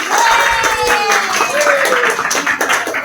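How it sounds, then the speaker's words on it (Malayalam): A crowd claps at a Malayalam movie promotion event, a loud, dense, continuous round of applause close by, with voices and a whistle-like tone mixed in. "ക്രിസ്റ്റീനയ്ക്ക് നല്ലൊരു കയ്യടി കൊടുത്തേ"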